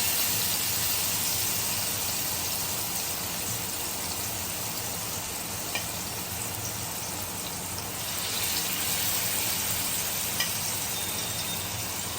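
Pieces of surmai fish fry in a pan, giving a steady broadband sizzle that runs evenly throughout at moderate loudness, no voices.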